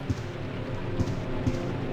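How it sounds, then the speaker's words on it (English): Steady rain in the video game Resident Evil 3: Nemesis patters in a constant wash of noise, with a few soft thuds at regular intervals underneath. "Sounds like rain."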